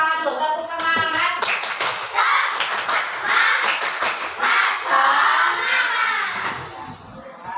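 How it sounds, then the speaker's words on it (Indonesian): Students in a classroom do a rhythmic spirit clap: sharp patterned bursts of clapping in quick sequences with short pauses, mixed with children's shouts and chanting voices. "Tepuk semangat dulu, tepuk semangat."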